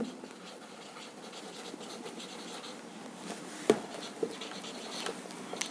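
Pen or chalk scratching on a board while a derivation is worked out in a lecture, soft continuous rubbing strokes with a few sharper taps near the end, faint and close.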